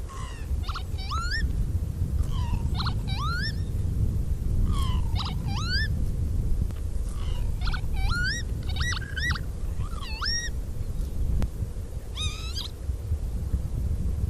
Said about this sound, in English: So the first that you're going to hear is the lapwing